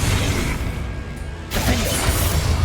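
A Confringo fire spell from the Hogwarts Legacy video game bursts loud and close as a dense whooshing blast, dips briefly, then surges into a second sustained roar.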